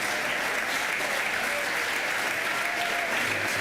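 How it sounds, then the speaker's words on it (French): Legislators applauding in a parliamentary chamber after a unanimous vote on Bill 57, a steady dense wash of clapping hands that holds at an even level for the whole stretch. "Ils s'applaudissent, ils sont tous prêts à la vie"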